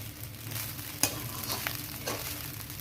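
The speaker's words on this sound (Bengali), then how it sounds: "নিয়ে আমি একটু চালটাকে ভেজে নিচ্ছি।" Rice for Basanti pulao frying in a karahi while a spatula stirs and scrapes it, giving a steady close crackle broken by a few sharper scraping strokes.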